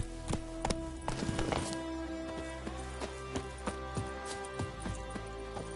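Hooves of Roach, a horse in the video game Witcher 3, clip-clopping at a quick gallop rhythm, steady and fairly close over game music and ambience.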